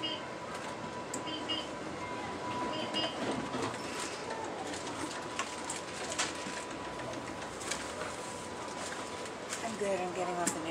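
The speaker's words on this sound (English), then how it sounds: "Train departing. Please stand clear." New Mexico Rail Runner commuter train pulling away from a station: a steady, broad rumble and rolling noise fills the scene, with a sustained tone running through it and a few bird-like chirps near the end.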